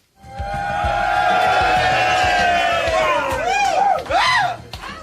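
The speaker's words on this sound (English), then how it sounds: "he toys with the crowd, he builds them up, gets them to fever pitch" A TV studio audience roars at fever pitch, a loud sustained wall of cheering and whooping that swells and holds, with excited shouts breaking through toward the end.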